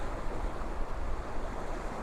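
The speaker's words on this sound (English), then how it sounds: "I've got to wait for the bigger wave to come in" Big sea wave washing in over a rock at St Monans pier, a continuous close rush of surging water and surf lasting the whole moment, with no voices.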